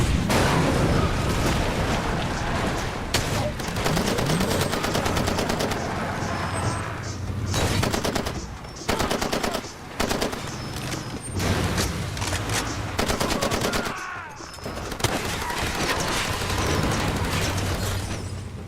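Gunfire and explosions from the video game Far Cry 2, a loud, dense run of shots and booms with brief gaps, mixed with game sound and occasional voice lines.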